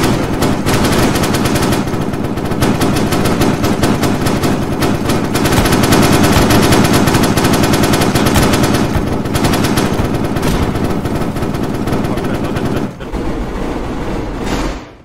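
Sustained automatic gunfire from guns in the video game DayZ, a dense loud rapid rattle running nearly unbroken for the whole stretch, dipping briefly near the end, with no voices.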